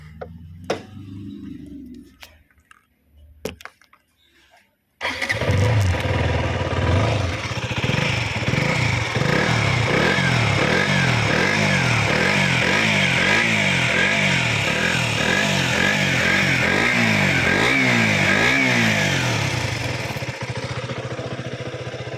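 A 2019 KTM Duke motorcycle's engine is started after a few quiet clicks, then runs loud and close with a throbbing idle and repeated rhythmic revs before settling and cutting off near the end.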